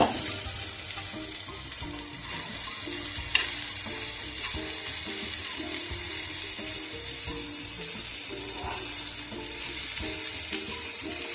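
Soaked flattened rice (chira) stirred in a hot pan with salt and sugar for vegetarian chira pulao: a continuous sizzling hiss with soft, irregular scraping and stirring strokes, close and even throughout.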